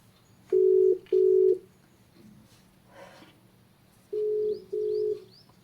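A telephone call being placed: pairs of steady electronic ringback tones sound twice near the start and twice again later, with faint background noise between them.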